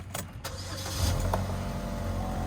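A car engine runs with a loud exhaust leak at the flex pipe, giving a steady, rough low rumble close by, with a couple of brief clicks near the start and no talking.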